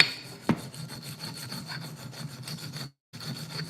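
Extra-coarse abrasive, roughly 40 to 45 grit, rubs across the metal of a handmade jaw harp in quick, steady rasping strokes, close and fairly loud, with one sharp scrape near the start and a brief pause before the rubbing resumes.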